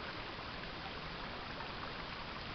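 Creek water runs steadily in a broad, even wash with a soft trickling texture. The flow sounds close and continuous, with no voices or other sounds.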